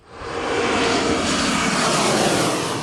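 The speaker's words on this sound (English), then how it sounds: "You can feel the rumbles of the engines as they fly by you, and I'm actually watching some planes land right now." Airliner engines roar steadily overhead as planes fly low over parks near Milwaukee Mitchell airport, a loud, broad rumbling wash that swells and holds for a few seconds with no voices.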